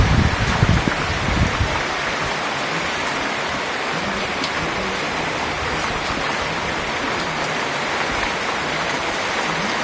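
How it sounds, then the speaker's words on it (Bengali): Heavy downpour in the morning, a steady dense hiss of rain falling continuously and fairly loud throughout, with a slightly stronger burst of drops at the start and no voices. "আজ ঘুম থেকে উঠে দেখি কি মুষলধারে বৃষ্টি নেমেছে"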